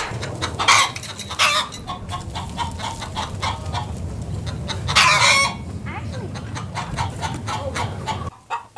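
A flock of backyard hens clucks and squawks nearby in irregular bursts, with sharper cries rising above a busy, murmuring coop.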